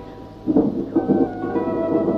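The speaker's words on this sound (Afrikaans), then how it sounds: "vreeslike groot storm, kan jy hoor?" Thunder from a big storm rolls as a low, rumbling swell, moderately loud and continuous, rising and falling over a couple of seconds with no voices.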